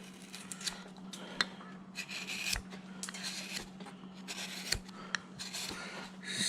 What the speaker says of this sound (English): get my number 3 shallow gouge here